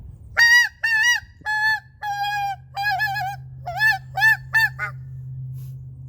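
A goose call blown by hand sends out a series of about a dozen loud, close honks in uneven bursts, each a short nasal two-tone goose imitation, with a low hum underneath and no talking.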